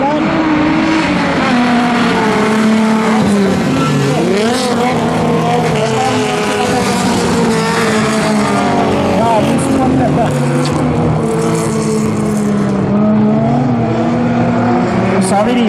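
Racing cars roaring around a bilcross track, loud continuous engine drone with rising and falling revs throughout, while a commentator talks over it.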